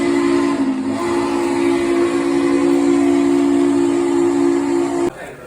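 A train sounds one long, loud, steady horn blast for about five seconds before it abruptly stops, leaving a quieter rumble behind.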